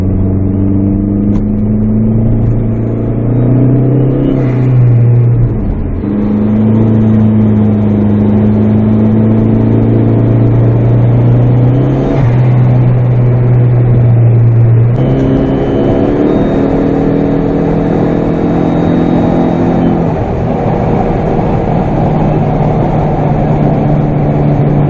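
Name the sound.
car engine accelerating during a road race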